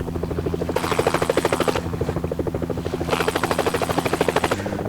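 A helicopter in the Helicopter Simulator 2014 video game: a loud, close rotor beat with rapid regular pulsing and a buzzy engine whine that swells in two bursts, no speech over it.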